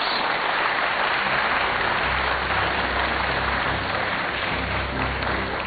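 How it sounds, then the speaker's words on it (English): An audience at a Kenyan political event applauds the running mates of an independent candidate, giving a steady, continuous wash of clapping that stays even in level throughout, heard alone without speech on a band-limited recording. "Ladies and gentlemen, a round of applause for our running mates."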